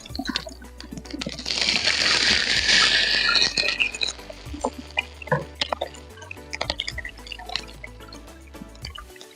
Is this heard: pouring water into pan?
yes